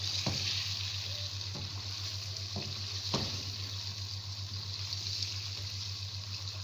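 Chicken karahi being stirred in a pan, giving a soft continuous sizzle with a few distinct scraping knocks of the spoon over a low hum.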